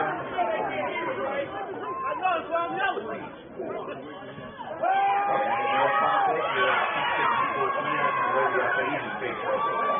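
A crowd at the NUC All American Underclassmen football game reacts to a play with loud, overlapping chatter and shouts that swell midway and stay raised, with talk mixed through the noise.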